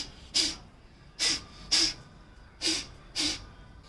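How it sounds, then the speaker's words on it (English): Five sharp, forceful breath bursts of induced sneezing, Prachardhan Kriya done after Jalaneti, spaced about half a second to a second apart, close and clear against a quiet background. "You breathe out just like sneezing, but this is induced sneezing."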